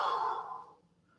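A forceful exhale pushes all the air out of the lungs during a yoga stretch: one close, breathy sigh lasting under a second that trails off into quiet.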